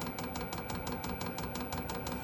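A steady mechanical hum from an LF Bros EX5.0K 12V 5000 W diesel air heater with a fast, regular clicking pulse running through it, close and constant.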